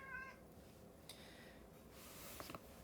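A house cat meows briefly and faintly near the start, followed by a quieter second mew, over a low indoor background hiss and a few light taps, with no talking.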